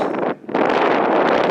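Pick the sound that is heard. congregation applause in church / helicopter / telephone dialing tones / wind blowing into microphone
wind blowing into microphone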